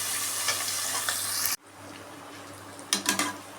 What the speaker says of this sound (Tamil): வெங்காயம் நல்லா வதங்கிட்டு இதுமாரி நல்லா வதங்கினா தான் பிரியாணியே வந்து டேஸ்ட்டாக இருக்கும்